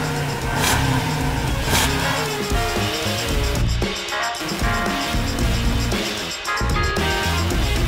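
A Dodge Ram pickup's 5.7-litre V8 Hemi revs in several loud bursts, rising and falling with short pauses between pulls, close up and without talk.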